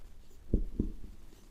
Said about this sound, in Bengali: আমরা লিখব